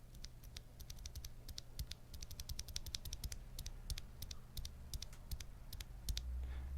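Bare 65-gram Arctos keyboard switches without keycaps are typed in quick, uneven bursts of crisp clicks and clacks, close up and fairly quiet over a low steady hum.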